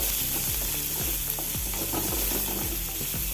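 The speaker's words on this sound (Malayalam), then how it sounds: "സവോള ഇട്ടൊന്ന് ഇളക്കി കൊടുത്ത് അതിന് തേങ്ങ ഇട്ട് കൊടുക്കുക" Onions are stirred and fried in oil in a pan: loud, close sizzling with regular scraping strokes about every half second, and no one speaking.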